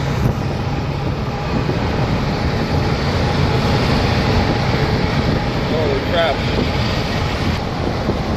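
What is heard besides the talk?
mini truck driving on freeway, wind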